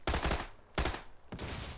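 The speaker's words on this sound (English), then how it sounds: "More gunfire." Loud bursts of rapid gunfire in PUBG, three volleys in quick succession with brief gaps, close and punchy.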